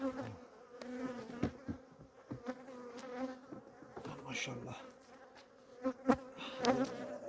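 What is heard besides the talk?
honeybees buzzing around hive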